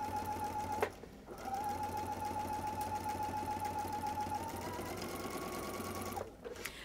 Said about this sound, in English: So I'm just running my fabric along that 1/4 inch mark for my 1/4 inch seam.